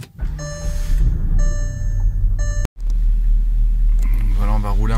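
A Porsche Cayenne 955 V8S restarting after a battery replacement, with a steady loud engine rumble, chiming warning tones and a brief cut before the engine sound returns. Speech is mixed in.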